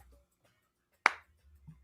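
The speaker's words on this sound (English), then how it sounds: "Listen to him clap, bro." A single sharp hand clap, close and isolated, with faint low murmur before and after.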